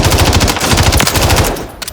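A fast-firing assault rifle in Call of Duty MWIII Warzone lets off a loud, rapid automatic burst, the shots evenly spaced in quick rhythm and then cut off near the end.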